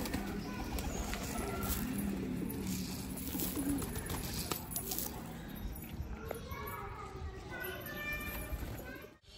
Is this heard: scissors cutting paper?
no